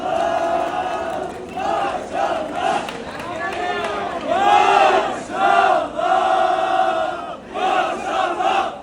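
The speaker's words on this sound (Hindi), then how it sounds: "ये देखो आप गाजियान्टेप बस स्टॉप का नज़ारा। मतलब इतना शोर शराबा, इतनी चिल्लम चिल्ली" Noisy crowd at the Gaziantep bus stop at night, many voices shouting and calling out together in a dense, loud, continuous din with rising and falling cries.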